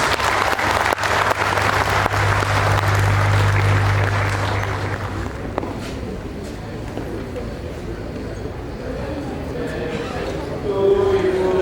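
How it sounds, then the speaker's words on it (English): A loud crowd applauds as a guest is welcomed to the front at a birthday gathering. The clapping is dense for about five seconds, then fades into quieter room noise and murmuring. "Let's give him a round of applause."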